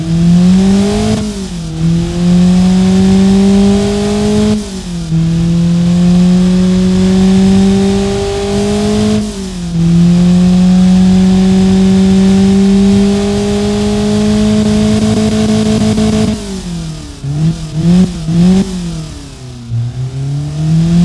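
A Honda K24A1 inline-four in the Automation car game holds a steady, loud, buzzy engine tone close up with no talk, briefly dipping and rising in pitch a few times between long even stretches.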